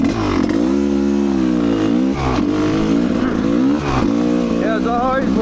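Off-road vehicle engine revving steadily at the start of a trail ride on an easy ORV trail, a loud, close, continuous growl that rises and dips in pitch with brief throttle changes.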